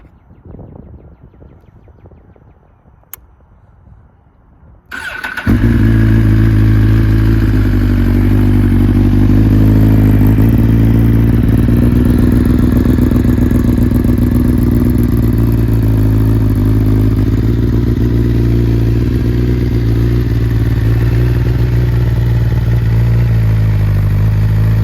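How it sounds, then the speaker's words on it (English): A 2022 Suzuki GSX-R1000R sportbike, already warm from a day of riding, cranks briefly and fires up, then settles into a loud, steady, throbbing idle that runs close and uninterrupted for about twenty seconds. "It's not a cold start because I've been riding all day. It'll be a start, so you can hear how she sound"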